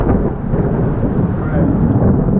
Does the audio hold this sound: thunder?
yes